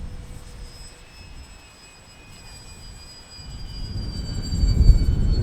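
A HobbyKing Hawker Tempest RC model plane flies in wind, its thin high motor whine drifting in pitch over gusty rumble, growing louder toward the end as it passes closer.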